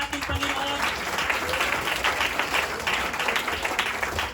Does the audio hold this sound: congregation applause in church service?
yes